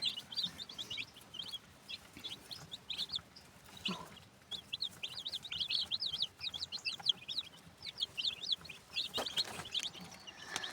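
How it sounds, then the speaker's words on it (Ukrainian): Small chicks keep up a dense chorus of high, rapid peeping, fairly close, with brief lulls and occasional soft knocks and rustling around them. "Ну, а там знов курчата, такі вже маленькі"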